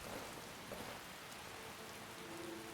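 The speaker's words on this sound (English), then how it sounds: "Damn it, it's still raining." Steady rainfall in the video game Skyrim: a continuous, soft hiss of drops with no talking, fairly quiet and even throughout.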